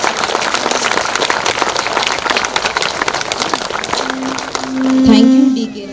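Loud, steady applause from a gathered audience at a district assembly, welcoming a guest presented with a bouquet; dense clapping fills the whole stretch, with a brief tonal sound near the end.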